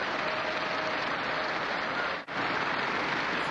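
Applause from an audience in the 1948 film The Red Shoes, a dense, steady wash of many hands clapping at fairly high volume, broken by one brief cut midway.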